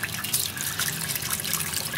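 Hot tap water running steadily over an ABS plastic smartwatch strap from an Amazfit Bip as it is rinsed, a close continuous splashing hiss with no voices.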